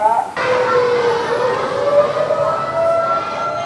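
A siren wails steadily from a megaphone during a school earthquake drill, a sustained rising-and-falling tone that starts abruptly and holds loud for several seconds over a faint background wash.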